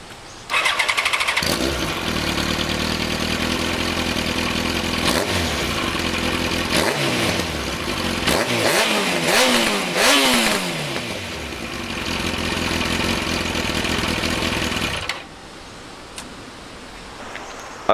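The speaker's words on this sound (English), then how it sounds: "I'll rev it up a bit now so you can hear it" A Yamaha R1 sportbike with its stock exhaust starts, settles into a rough idle, then revs in a quick series of sharp climbing blips before dropping back to a steady idle, loud and close.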